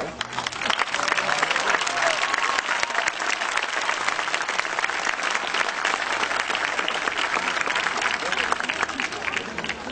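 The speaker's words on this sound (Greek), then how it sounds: "Γι' αυτό τους αξίζει όχι μόνο ένα δυνατό χειροκρότημα, αλλά και ένα τεράστιο μπράβο." A large audience at a nursery and kindergarten school performance applauds the teachers, loud, dense clapping that holds steady for several seconds, with crowd voices mixed faintly underneath.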